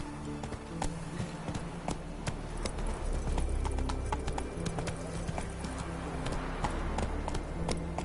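Roach the horse gallops in The Witcher 3: Wild Hunt, a fast rolling clip-clop of hooves that carries on steadily and up close for the whole stretch, over game ambience.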